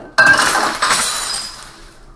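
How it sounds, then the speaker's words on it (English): A glass liquor bottle filled with water drops and shatters in one loud, sharp crash with a bright ringing impact, followed by tinkling shards settling and fading over about two seconds. "I just broke this liquor bottle trying to recreate the poltergeist event"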